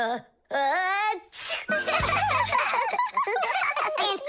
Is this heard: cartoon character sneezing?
yes